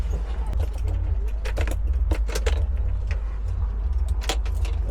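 Keys of a Beemobs bee1 electric commercial vehicle jingle and clink in several quick bursts, close up, with a faint low hum of the vehicle cabin underneath.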